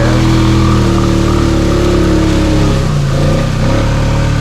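A 2021 Honda Rubicon ATV on Outlaw2 tires, its engine running loud and close with a strained, revving drone that sags and bogs down partway through.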